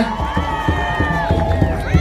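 A gathering in Embu welcomes the honourable Susan Wariro from Kagari South with rhythmic, evenly paced clapping and lively crowd voices, close and busy.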